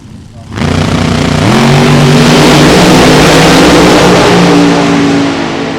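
Supercharged drag race cars, one Vortec-charged and one blower-equipped, launch with a loud rising engine roar that climbs in pitch as they accelerate down the strip, close and overpowering.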